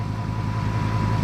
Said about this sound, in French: Le ralenti tourne bien.